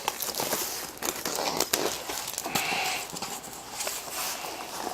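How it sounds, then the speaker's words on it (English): Heavy shrink wrap on an IKEA table crinkles and crackles as it is cut and pulled away from the cardboard, with sharp tearing bursts and rustling handling noise up close throughout. "Strongest shrink wrap ever."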